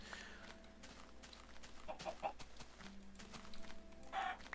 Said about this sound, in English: There's also a chicken.